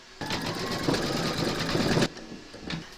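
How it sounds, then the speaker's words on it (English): A home embroidery machine stitching an orange beak round on an in-the-hoop cuddly penguin runs in a steady, fast rapid clatter for about two seconds, then stops, leaving quieter faint taps. "and then stitch round number 10"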